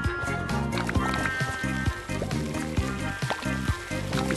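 Food frying in the cooking video game Carnival of Chaos, a steady sizzle running throughout alongside looping game music and short effect blips.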